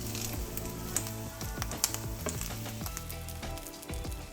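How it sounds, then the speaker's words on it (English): Fresh basil wilts in a pan as part of a penne alla vodka sauce, giving a close, busy sizzle with scattered crackles and a few sharp clicks. No voices are heard. "We have our little basil garden. And it goes right into the pan."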